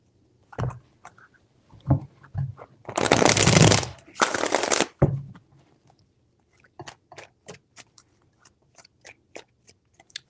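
Tarot cards being shuffled in two brisk riffling bursts, followed by light taps and card handling in a quiet room.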